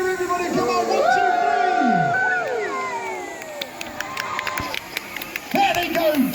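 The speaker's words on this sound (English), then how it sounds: "Let's have a cheer, everybody." Audience at the Peasholm Park naval battle show cheering as model planes dive on an enemy submarine. Whoops and rising voices swell over a crowd murmur, fade, then burst up again near the end.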